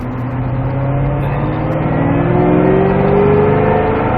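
A Ford Mustang Shelby GT500 accelerating hard on the Mettet race circuit, its engine roaring loud and close with a steady rising drone throughout, no voices.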